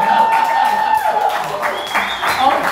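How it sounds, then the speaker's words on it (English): Audience applause swells beneath a voice and other sounds, a steady crowd clapping that stays fairly loud throughout. "You may now applaud in awe."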